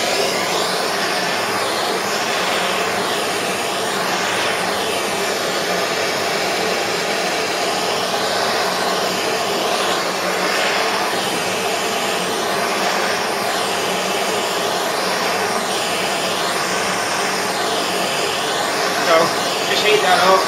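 A heat gun roars steadily and loudly while stripping paint from a Ford Cortina GXL under restoration, the broadband whoosh continuous throughout with slight wavering tones and someone speaking over it.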